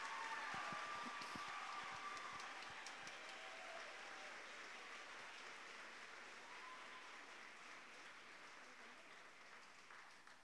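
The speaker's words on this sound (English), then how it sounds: "Audience, let's send our first group of Teachers of the Year off the stage with a big round of applause." An audience applauds as the first group of Teachers of the Year leaves the stage at a district celebration, a broad steady wash of clapping that slowly fades over ten seconds, fairly distant and not loud.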